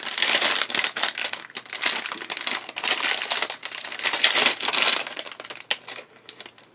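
Plastic bags holding parts for an Orochi 1/35 M3A3 Bradley model kit crinkle and rustle as they are torn open, a close, fairly loud crackle that comes in uneven bursts throughout.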